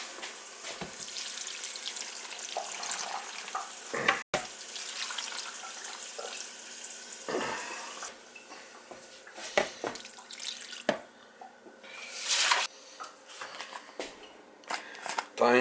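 Water running from a kitchen tap into a crockpot, a close splashing hiss that comes in bursts with pauses and clinks between them.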